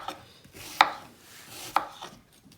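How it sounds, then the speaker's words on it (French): A knife slicing apple quarters for an apple tart, two crisp chopping knocks against a board spaced about a second apart, close and fairly quiet with soft handling noise between. "je les coupe"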